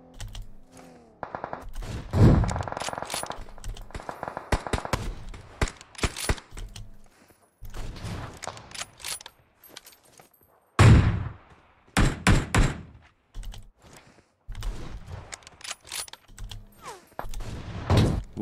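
Gunfire in the battle royale PUBG Mobile: repeated sharp bursts of automatic fire and single shots in irregular clusters, close and punchy, separated by short quiet gaps, with occasional thuds.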